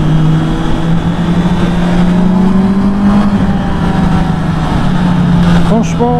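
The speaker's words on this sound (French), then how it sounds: "La sonorité de ce moteur." Honda CB650R E-Clutch 2024 motorcycle inline-four engine running with a steady, loud idle hum that rises slightly in pitch, continuous throughout, with a voice speaking over it.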